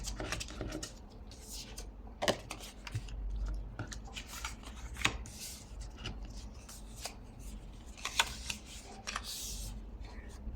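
Scissors snip scraps of paper in half at close range, quiet irregular clipping and rustling of paper as the scraps are handled.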